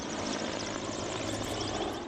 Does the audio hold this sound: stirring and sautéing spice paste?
no